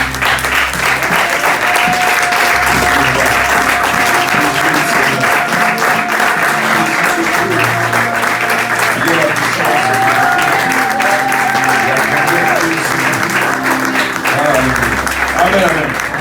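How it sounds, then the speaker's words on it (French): A Sunday church congregation stands and applauds continuously for about sixteen seconds, dense, even clapping layered over held keyboard notes. "Lèvons-nous et acclamons la parole de la victoire."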